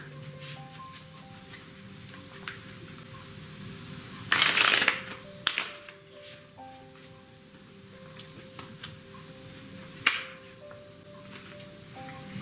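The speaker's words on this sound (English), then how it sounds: "we're also going to get from the Twin Flame Oracle deck. So let me shuffle this up" A deck of cards shuffled nearby in a loud riffling burst, followed by scattered soft flicks and taps, with a steady faint tone underneath.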